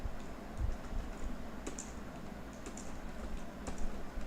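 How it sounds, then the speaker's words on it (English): Typing on a computer keyboard in a dark room, a steady run of soft clicks with a few sharper keystrokes standing out, close and fairly quiet over a low background hum. "I'm typing in the dark here, so please excuse me."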